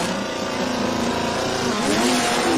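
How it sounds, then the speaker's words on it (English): An all-wheel-drive stick-shift 1995 Honda at a drag racing event, a loud, steady close engine drone with rising pitch toward the end, continuous and unbroken. "Here comes Rob Courtney. This is an all-wheel drive stick shift 95 Honda."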